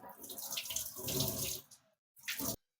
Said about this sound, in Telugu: ఇక్కడ రైస్ కడుగుతున్నాను